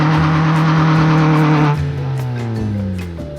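A Mustang or Civic spins a donut, its engine roaring loud and close while the tires squeal in a sustained, wavering howl that shifts pitch as the car rotates.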